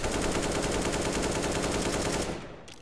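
Rapid automatic gunfire from Counter-Strike: Global Offensive rattles in a steady, loud, fast stream of shots for over two seconds, then cuts off and fades, with no talking over it.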